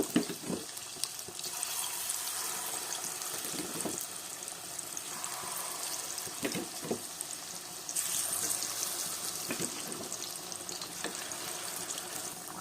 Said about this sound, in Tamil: இப்போ வந்து எண்ணெய் காஞ்சிருச்சு. நம்ம சின்ன சின்ன வடையாக ஊற்றி எடுத்துக்கலாம்.